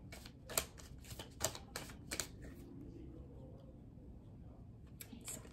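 Tarot cards being shuffled and drawn, with quick papery riffles and flicks in the first half, then a quieter pause and a few more card snaps near the end, all close and soft.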